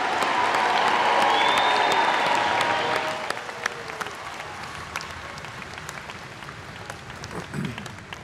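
Warm round of applause for graduates at a Missouri S&T commencement, a broad crowd clapping loudly at first with a faint whistle or cheer, then thinning out and fading toward scattered claps near the end.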